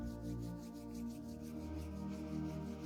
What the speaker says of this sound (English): And while we're rubbing our hands together, we're developing our intention for today.